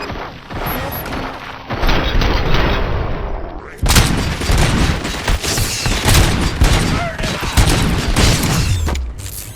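Rapid gunfire bursts and heavy booms erupt in the Robocop: Rogue City video game, loud and chaotic, with a brief voice under the shooting.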